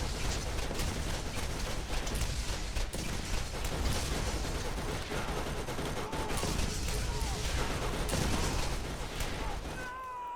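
Gatling gun fire in the video game Borderlands, a dense continuous roar of rapid shots with mechanical rattling throughout, loud and unbroken until a brief drop near the end.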